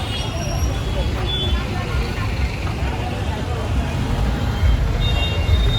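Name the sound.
road traffic jam noise on the way to a fair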